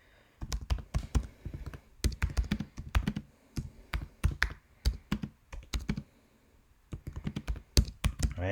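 Quick bursts of keystrokes on a computer keyboard, close crisp clacking in irregular runs separated by short pauses, with no talking.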